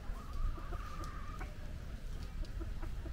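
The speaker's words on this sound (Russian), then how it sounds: "какая курица красивая" A single hen clucks in short, soft pulses with a brief drawn-out squawk near the start, moderately close against a steady low background hum, no voices.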